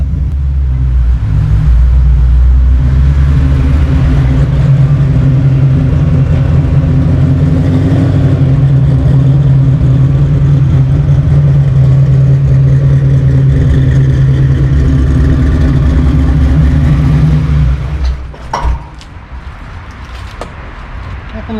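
A 1989 Mustang fitted with a drag pack engine drones loudly from inside the cabin while driving, a sustained deep rumble that drops away near the end.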